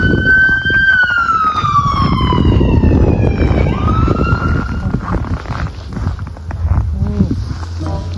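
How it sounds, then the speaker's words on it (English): A wailing ambulance siren sweeps down in pitch and rises again over heavy traffic rumble, loud and passing nearby. "There's an ambulance."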